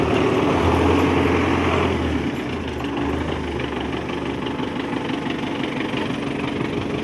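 A 2018 model 1025 tractor with about 2200 engine hours idles steadily up close, a continuous low knocking diesel rumble that drops slightly in intensity after two seconds and then holds even, with no talking.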